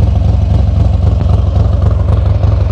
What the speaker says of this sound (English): Nice Harley sound out of that exhaust.